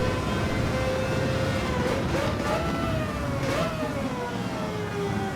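Mazda 787B race car in Gran Turismo 7, its rotary engine a steady high-pitched wail with rising pitch sweeps as it revs through gears, continuous and fairly close throughout.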